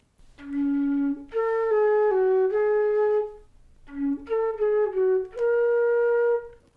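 A flute plays a short melodic phrase of several clear notes, pauses briefly, then plays it again, with no talking.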